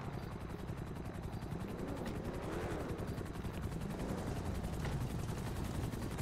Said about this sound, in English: Is that the PD chopper?